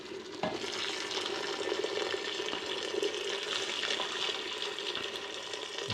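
Boiled water from a kettle poured into a pot of butternut squash soup, a continuous steady splashing and bubbling hiss that lasts the whole time, close by and moderately loud.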